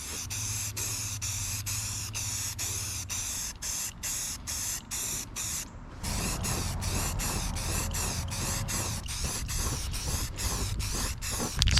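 Aerosol spray paint hissing steadily onto a BMW E36 hood, a continuous close spray broken into a rapid series of short bursts with brief gaps, louder in the second half.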